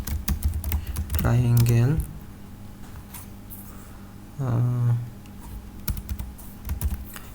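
Computer keyboard clatter while C code is typed, quick irregular key taps heard up close and interleaved with someone speaking Bengali in two short phrases.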